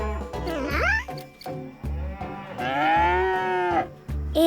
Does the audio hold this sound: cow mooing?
yes